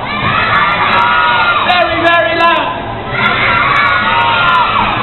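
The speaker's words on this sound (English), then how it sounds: "Scream as loud as you can." Children in the audience at a Transformers kids' show scream loudly together, a sustained crowd of high young voices that dips briefly midway and then swells again.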